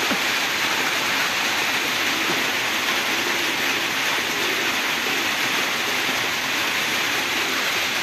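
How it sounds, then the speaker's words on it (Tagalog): Heavy rain pours steadily and loudly, a dense unbroken hiss that stays constant for the full stretch, with no voices present. "Umuulan na, malakas na ulan"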